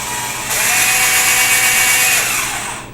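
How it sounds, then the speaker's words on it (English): A handheld rechargeable electric drill with two forward speeds and reverse runs in a loud, steady, high whine that starts abruptly, holds for a couple of seconds and then tapers off, with no voices. "pulled out this handy dandy rechargeable electric drill"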